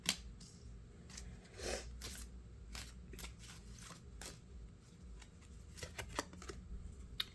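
Tarot-style cards drawn and handled during a reading, with soft flicks, slides and snaps in irregular bursts, close and quiet, and no talk.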